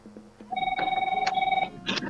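A telephone rings during a conversation, a steady electronic trill with bright tones lasting over a second, fairly close and clear, with faint voices before it.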